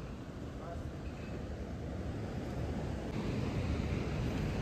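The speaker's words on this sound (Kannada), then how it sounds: "ಅಷ್ಟು ಕಂಟಿನ್ಯೂಸ್ ಆಗಿ ಅಲೆಗಳು ಬರ್ತಾ ಇರುತ್ತೆ" Sea waves breaking continuously at a beach, a steady broad roaring wash with slight wind rumble, heard close and without a break throughout.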